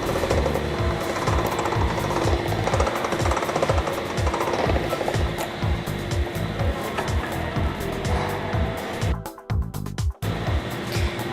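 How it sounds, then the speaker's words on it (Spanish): A dough sheeter machine rolls pasta dough thin with a loud, continuous mechanical rumble and rhythmic thumping throughout, briefly dropping out near the end. "Yo tengo también la ayudita de mi máquina, tiene que ser una sobadora"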